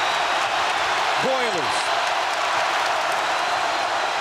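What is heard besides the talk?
basketball arena crowd of Purdue fans cheering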